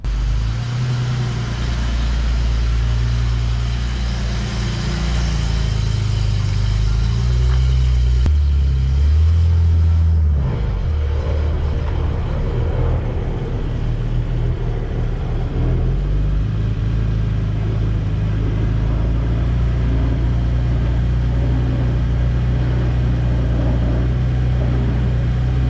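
A newly built car with a front exhaust leak drives under its own power for the first time, its engine rumbling steadily and loudly throughout with a brief surge partway through.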